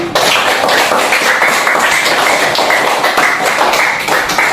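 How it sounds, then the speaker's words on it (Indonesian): Many hands clapping together in a dense, continuous burst of applause, loud and close, lasting several seconds. "Tepuk tangan"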